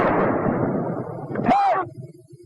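A WWII US Army 37mm gun firing once, a loud close blast with a ringing tail, preceded by voices and noise.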